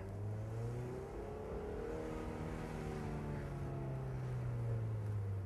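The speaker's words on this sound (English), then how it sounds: "let's take the 2008 Mazda MX-5 once around the block" A 2008 Mazda MX-5 with a six-speed manual drives around the block, its engine humming steadily as it accelerates and shifts, heard faintly and low from inside the car with no one talking.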